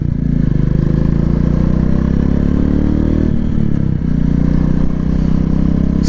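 A Royal Enfield Classic 350 motorcycle rides in first gear, its single-cylinder engine thumping loud and steady close by, with a brief dip and rise in the throttle midway.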